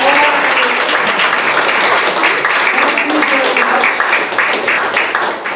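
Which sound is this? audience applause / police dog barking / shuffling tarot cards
audience applause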